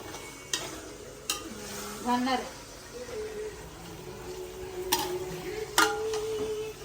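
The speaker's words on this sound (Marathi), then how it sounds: "हे मिक्स करून घ्या मिक्स करते" Yakhni pulao being stirred in a pot, a few sharp utensil scrapes and knocks over a faint background sizzle, with a voice speaking briefly partway through.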